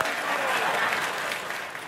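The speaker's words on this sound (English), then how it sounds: "People applauding." A studio audience at Comic-Con bursts into steady applause, many hands clapping in a dense, close wash that holds level throughout and tapers slightly at the end.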